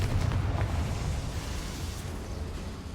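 A Confringo explosion spell bursts in the Hogwarts Legacy video game, a loud, rumbling blast with a sustained low roar that slowly fades over a few seconds, with no talking.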